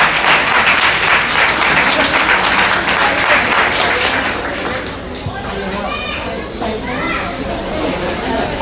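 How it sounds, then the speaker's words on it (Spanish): A crowd at a children's coronation of kings and princesses gives loud applause for the preschool princess. The clapping is strong at first, then eases under children's chatter and voices. "Nuestra princesa de preescolar. Fuerte el aplauso, por favor."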